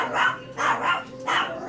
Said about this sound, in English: I got to meet his dog, too.